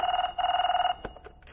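A telephone bell rings loudly in a Telugu film comedy scene, in two bursts of rapid trilling with a short pause between, then stops and faint shuffling follows.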